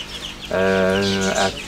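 A hen gives one loud, drawn-out call close by in the poultry section of a garden centre, rising briefly at the end over a low hum of shop noise.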